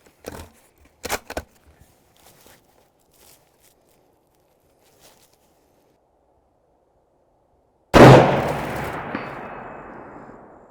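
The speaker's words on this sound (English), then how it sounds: "I love the sound, that impact sound of the round on steel." Loud single rifle shot with a long decaying tail outdoors on a long-range shooting setup, preceded by faint scattered ticks and handling noises; a distinct steel-target ring is not clearly separable from the shot's echo.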